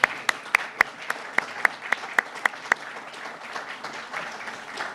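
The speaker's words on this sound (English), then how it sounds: "So let's have a round of applause." A roomful of guests applauds at a Chamber of Commerce legislative reception, starting with a few sharp, distinct claps up close before merging into a softer, fading patter of clapping.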